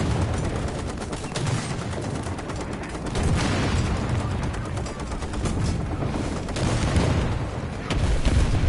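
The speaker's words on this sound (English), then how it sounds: "that's a bomb" Heavy gunfire and booming blasts from a War Thunder battle roll on continuously, with a dense low rumble and a swell of louder detonations toward the end.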